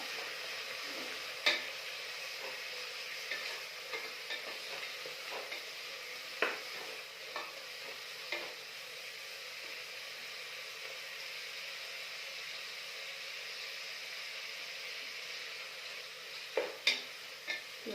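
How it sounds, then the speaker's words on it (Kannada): Fenugreek leaves frying in oil, a steady soft sizzle with scattered clicks of a utensil stirring against the pan, moderately close and without speech. "ಈ ಥರ ಮೆಂತ್ಯ ಸೊಪ್ಪನ್ನ ಎಣ್ಣೆಯಲ್ಲೇ ಫ್ರೈ ಮಾಡಬೇಕು"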